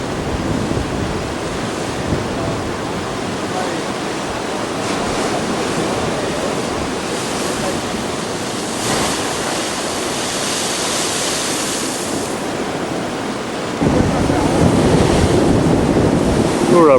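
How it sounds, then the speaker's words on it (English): Ocean waves surge and crash continuously close by in Hawaii, a steady roaring wash of surf that swells louder near the end, with wind buffeting the microphone. "the waves come crashing in"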